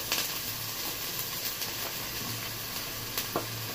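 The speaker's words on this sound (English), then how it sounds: "I will be adding my onions" Onions frying in a hot pan for Chinese fried rice give off a steady, close sizzle with a constant bright hiss, broken by a few faint pops and crackles.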